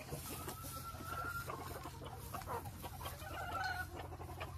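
Hens with a lot of pattern and colour cluck in a breeding pen, with scattered soft calls over a steady low hum and farmyard background.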